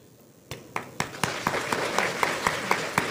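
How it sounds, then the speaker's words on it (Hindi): A small gathering at a spiritual talk starts clapping: a few separate claps join into rhythmic group clapping, with sharp, close, evenly spaced beats over a fuller spread of hands. "इनके लिए ताली बजा दीजिए"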